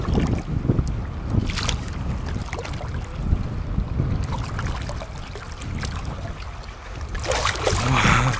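Steady wind buffets the microphone outdoors over a lake, a continuous rough rumble with gusts swelling louder toward the end, no voices.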